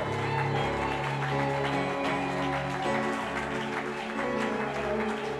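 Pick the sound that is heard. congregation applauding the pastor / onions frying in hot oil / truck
congregation applauding the pastor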